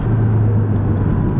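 A deep, loud Porsche sports car engine rumble with a low steady drone, close and continuous, like a powerful car idling or cruising.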